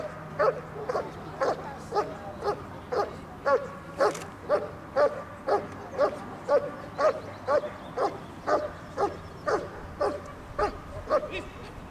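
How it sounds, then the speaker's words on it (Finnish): Dog barking in Schutzhund training, a steady run of about twenty sharp, evenly spaced barks at moderate distance, with faint human voices beneath. "se haukkuu sen verta korkealle ja sitä ei saa alas"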